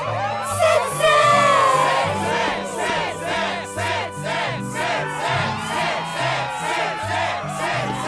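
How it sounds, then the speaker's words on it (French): In the Kingdom Hearts II video game, a crowd at the Struggle tournament cheers and shouts continuously, with overlapping voices and whoops rising and falling over a low backing of music. "La foule est en délire."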